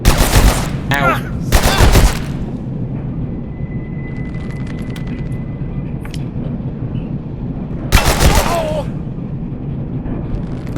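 Gunfire in the video game Abiotic Factor: a few loud bursts of shots near the start and another burst around the middle, set over a steady rumbling background.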